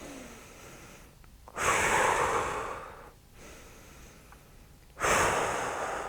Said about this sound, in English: breathe, in the nose, out the mouth